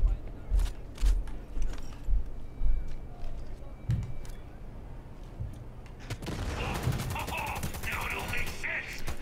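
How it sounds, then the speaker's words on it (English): Rapid machine gun bursts in Cyberpunk 2077 rattle over game sounds and music, with a louder, denser stretch of gunfire toward the end; talk is heard along with it. "then we'll go to inventory, equip that machine gun"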